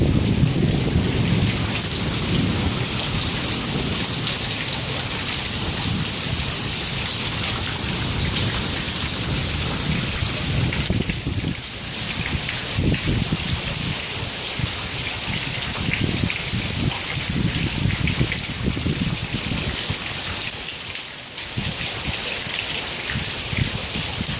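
Very heavy rain hammers down during a thunderstorm, a constant roaring hiss with low rumbles and a couple of brief dips in intensity, heard from under a shelter with no talking.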